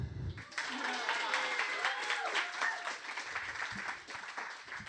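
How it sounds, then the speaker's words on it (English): Audience at a live performance show breaks into steady applause, dense clapping that rises quickly and carries on for several seconds before tapering off. "I just needed some applause"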